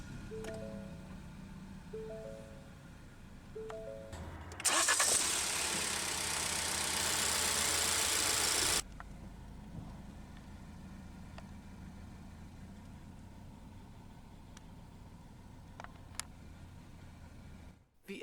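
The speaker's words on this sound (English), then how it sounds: "let's go ahead and start the engine" A 2019 Ford EcoSport SE 4WD subcompact crossover starts by push button: faint chimes, then a loud cranking surge as the engine catches and settles into a steady low idle heard from inside the cabin.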